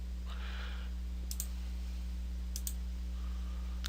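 Computer mouse clicks while selecting a layer color in the CryEngine editor, a few sharp isolated clicks in a quiet room over a faint steady hum.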